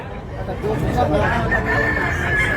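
Roosters crowing at a busy chicken market in Tabunok, Talisay, Cebu, drawn-out calls rising over a constant crowd murmur and nearby chatter.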